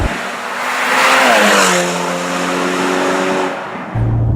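Ferrari California T engine accelerating, a loud rising rev with climbing harmonic tones that shift up through a gear change, smooth and sustained, with no talk.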